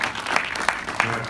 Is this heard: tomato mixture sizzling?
no